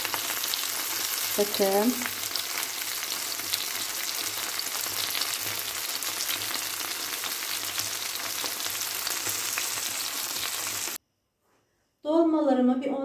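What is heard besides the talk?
stuffed peppers (dolma) frying in a pan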